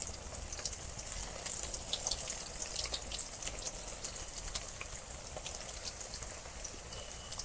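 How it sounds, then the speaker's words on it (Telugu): Boiled potatoes frying in hot oil for a spinach potato curry, a dense, even crackling hiss like light rain that holds steady throughout, close and fairly loud with no talking. "ఇప్పుడు ఆయిల్లోని బంగాళదుంపలు వేసుకోవాలన్నమాట. ఆల్రెడీ ఉడికిన బంగాళదుంపలే ఫ్రై చేసుకోవాలి."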